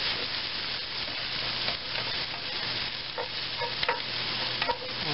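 Food frying in a pan with a steady sizzle, stirred with scattered scraping and clinking strokes throughout, prepared while cooking fettuccine.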